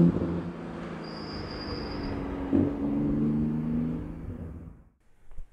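A Porsche 991 GT2 RS turbocharged engine accelerates with a loud, rising drone and a high whine, then fades away to near quiet.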